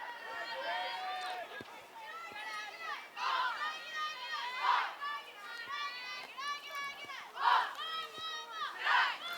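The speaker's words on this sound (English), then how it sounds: "You can hear the Galesburg dugout cheering" Galesburg softball dugout players cheering and chanting in rhythmic bursts at a high school game, young voices rising and falling in repeated loud waves over about nine seconds.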